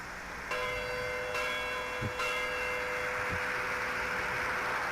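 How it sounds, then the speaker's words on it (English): Church bell in Roxton Pond tolling at a distance, its sustained ringing tone fairly faint over steady outdoor background noise, with a couple of soft knocks and no talking. "The church bell is ringing."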